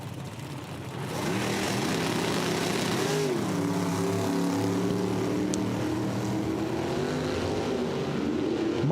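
Drag race launch of a Firebird in the left lane against a 1970 Duster in the right, a steady loud engine roar building after the first second and holding with rising and falling harmonic tones.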